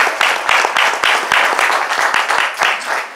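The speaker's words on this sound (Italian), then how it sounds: "un meraviglioso applauso alla nostra maestra Rosanna Miglietti" At a Christmas choir concert in a small theatre, a modest audience applauds the choir's teacher, individual claps distinct and close in a lively rhythmic patter that rises and falls over a few seconds.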